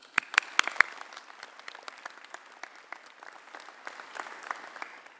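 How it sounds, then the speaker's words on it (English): Audience applause at a graduation ceremony in Cairns, beginning with a few loud, sharp nearby claps and then settling into a steady, moderate spread of clapping from the crowd that carries on without talk. "Please give him a round of applause."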